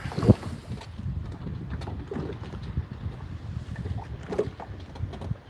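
Boat engine running at sea during a marine research expedition, a low steady rumble heard close with wind buffeting the microphone and occasional water slaps.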